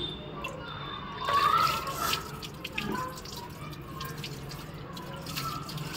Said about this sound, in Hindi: बुजो ओ बुजो को ठंडे ठंडे पानी में नहला रही है।